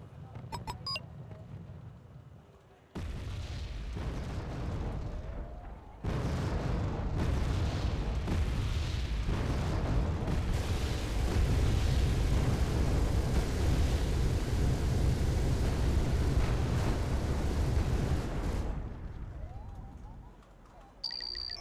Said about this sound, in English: I'm just bombing the living daylights out of these Tunguskas.